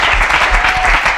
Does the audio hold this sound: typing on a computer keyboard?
no